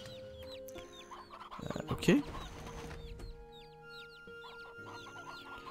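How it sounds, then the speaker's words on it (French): Clucking chicken fleeing in Black Desert Online, with a flurry of repeated clucks and squawks in the middle and softer bird calls throughout, under a brief spoken word. "Poulet en fuite."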